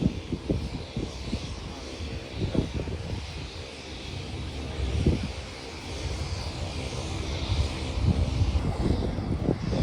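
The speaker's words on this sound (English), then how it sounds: "that's a bit of a surprise appearance from this A400M" An Airbus A400M military transport aircraft taxiing along the runway at the RIAT airshow, its engines a steady, moderately distant drone mixed with wind buffeting the microphone, with no talking.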